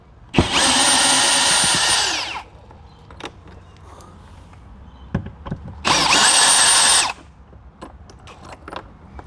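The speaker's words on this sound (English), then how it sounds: "now we have to unscrew just 3 bolts. Use a screwdriver, just be careful." A power driver unscrews door panel bolts on a Toyota RAV4 in two loud, close whirring bursts, one about two seconds long and one shorter, with faint handling clicks between them.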